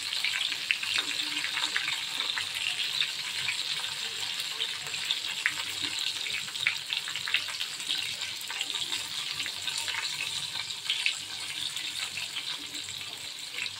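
Stuffed bitter gourds fry in a covered pan as a spoon turns them over; a steady, hissing sizzle runs unbroken throughout at moderate level, with no voices.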